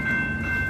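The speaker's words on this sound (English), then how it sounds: "the Canadian Pacific Holiday Train" Canadian Pacific Holiday Train, decorated with lights, rolling past at Montréal-Ouest in a short burst of steady rumble with a sustained tonal ring, no talk.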